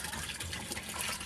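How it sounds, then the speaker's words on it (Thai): Water gushing and streaming down on a fishing boat, a dense, steady rush close by lasting only a moment, with no talk. "เบิ่งน้ำนะครับมีไหลรัวรัวลงนี่"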